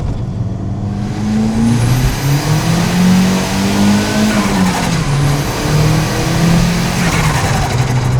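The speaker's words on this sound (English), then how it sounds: "let's get you a little second gear pull here" A car pulls hard in second gear, its engine note climbing steadily under heavy throttle with a brief shift-like dip, loud and close throughout, no voices.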